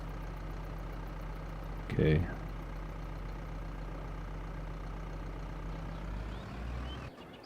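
A tractor engine idles and drives with a steady low hum in Farming Simulator 22, continuous and moderately loud, while a person speaks briefly over it.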